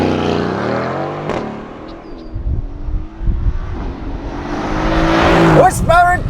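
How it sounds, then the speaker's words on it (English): A 2020 Mercedes-AMG GLC63 S with its 4-liter twin-turbo V8 launches under launch control. The engine drones loud and close, rises through gear changes, then roars at a high rev, while an excited voice talks over it. "'20 Mercedes-AMG GLC63 S. 4MATIC Plus with launch control."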